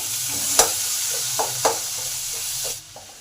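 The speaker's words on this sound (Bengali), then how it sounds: "পেঁয়াজগুলো আমার ভাজা হয়ে গেছে এই সময় একটা টমেটো আছে সেটাকে কেটে দিয়ে দিলাম" Chopped tomato frying with browned onions in a pan hisses in a steady sizzle, broken by a few sharp scrapes and stirs of a utensil, loud and close with no talking.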